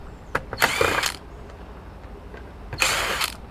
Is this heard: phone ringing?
no